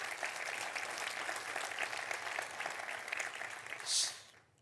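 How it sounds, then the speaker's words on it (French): An audience at a conference in the Vendée claps steadily in a thick, sustained round of applause that tapers off at the very end, with a brief sharp high noise near the close. "vous pouvez l'applaudir"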